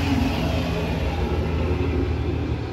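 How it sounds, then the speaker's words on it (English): Steady low rumble of road traffic passing near a pickup truck fitted with a solar setup, continuous and fairly loud with no speech. "Apologize for the traffic noise."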